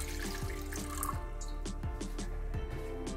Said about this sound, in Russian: наливаю горячей воды, чтобы она немного не доходила до решетки